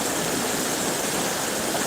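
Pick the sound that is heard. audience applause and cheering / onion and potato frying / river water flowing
river water flowing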